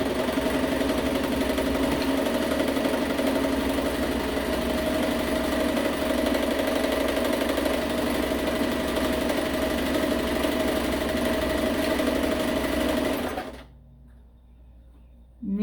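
A sewing machine stitching through a blue comforter, a steady, moderately quiet mechanical whir running continuously for about thirteen seconds before stopping abruptly, leaving near silence.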